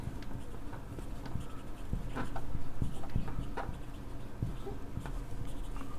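Chalk scratches and taps on a board as a Class 12 electrostatics definition is written out, faint irregular strokes over a steady low room hum, with no one speaking.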